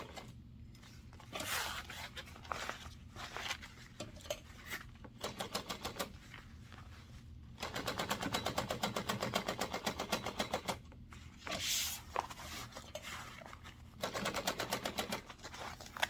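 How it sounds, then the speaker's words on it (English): Sewing machine stitching a quarter-inch seam around fabric, running in steady bursts of rapid mechanical clatter that stop and start, loudest in longer runs, with no talking. "I'm going to sew it 1/4 inch seam allowance. All the way around, except for the bottom."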